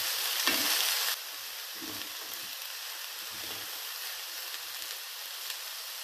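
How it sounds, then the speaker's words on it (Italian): Eggplant pieces are turned in a hot pan over high flame, with a brief loud burst of sizzling, then a steady softer frying hiss and a few light clunks of the pieces being moved. "2 minuti sono trascorsi, quindi possiamo girare le melanzane."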